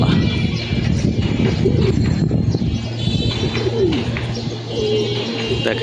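Pigeons at a loft in rainy weather coo steadily in soft repeated phrases over a constant wash of rain and ambient noise, with occasional chirps, close and continuous.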